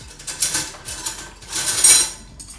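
Small metal spoons clink and rattle in a few short bursts, close by, as they are fetched from a drawer.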